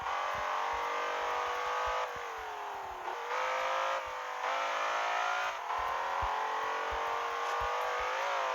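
A BMW M5 racing around the Nürburgring track in Assoluto Racing, its engine droning loud and steady with rising and falling revs through gear shifts, alone without voices.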